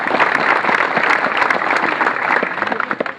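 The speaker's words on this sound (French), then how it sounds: "Et je propose que l'on vous applaudisse." Steady, loud applause from an audience at a welcoming ceremony in Plougna, Brittany: dense clapping that carries evenly throughout, with a few sharper claps standing out near the end.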